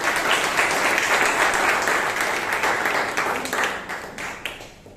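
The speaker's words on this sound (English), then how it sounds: "Let's give a big round of applause for both the speakers." A Toastmasters club audience in Bangalore claps for two speakers, a dense, even round of applause that holds steady and then tapers off toward the end.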